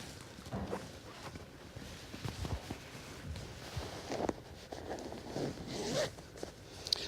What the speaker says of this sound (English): we open here these zippers